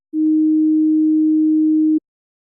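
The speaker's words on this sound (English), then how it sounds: "the correct tone, the tone tested, is played again" A single steady pure pitch-test tone from a hearing-ability program plays alone for about two seconds at a constant low-mid pitch, starting and stopping cleanly.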